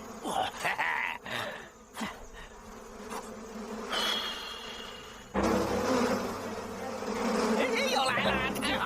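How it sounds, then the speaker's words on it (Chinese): A small swarm of bees buzzes in a continuous, fluttering drone that swells louder in the second half, with people shouting and talking over it at times. "蜜蜂太少了，不好玩。"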